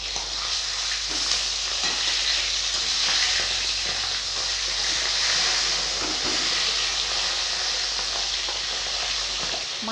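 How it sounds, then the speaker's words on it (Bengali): Rohu fish heads fry in hot oil in a pan with a steady, dense sizzle and hiss that runs unbroken throughout, close and fairly loud, with no voices. "মাছের মুড়োগুলো ভাজা হয়ে গেছে,"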